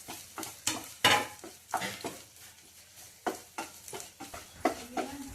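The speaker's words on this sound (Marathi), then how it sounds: "ह्या खीस पण याच्यातच टाकून आता याला पण थोडंसं भाजून घेऊ आपण" Grated coconut is roasted with ground masala in a pan, with soft sizzling and repeated scraping strokes of a spoon against the metal, close and fairly quiet.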